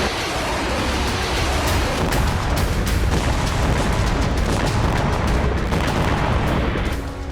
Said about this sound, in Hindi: लुहांस्क में यूक्रेन ने एक के बाद एक 8 अटैक MS मिसाइलें दागी